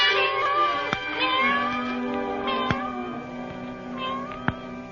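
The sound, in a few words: cat meowing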